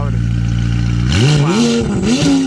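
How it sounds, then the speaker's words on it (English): A McLaren 620R engine roars loudly nearby, holding a deep idle then revving up in rising, snarling pulls through a loud titanium exhaust. "you can hear that titanium exhaust. Holy crap. That thing is so loud."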